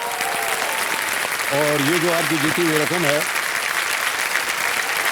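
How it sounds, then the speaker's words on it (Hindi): A TV quiz show studio audience applauds a contestant who has just won 6,40,000 rupees, broad clapping running throughout while a host speaks and a melodic music sting rises midway. "तालियां बज जाएं इनके लिए।"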